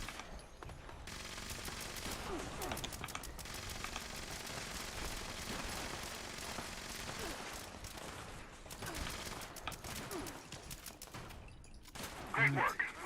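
Automatic rifle fire in Fallout 76 rattles in dense, sustained bursts through most of the stretch, loud and close, with game noise and a brief effect near the end.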